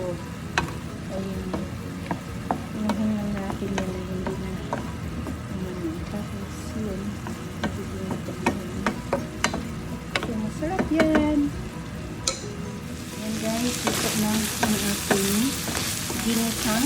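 Chayote simmers in a pan with a splash of broth, giving a steady close bubbling sizzle with soft scraping stirs and clinks, growing brighter and hissier near the end; voices can be heard faintly at times.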